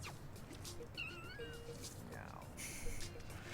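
Faint cats meow and caterwaul in the video game No More Heroes, several short rising and falling calls under low background game sound and a talking voice.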